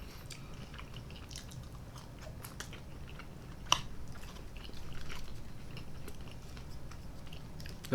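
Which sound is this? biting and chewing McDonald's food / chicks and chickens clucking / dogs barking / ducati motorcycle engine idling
biting and chewing McDonald's food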